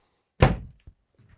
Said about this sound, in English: I just had to fix this dodgy door handle as well.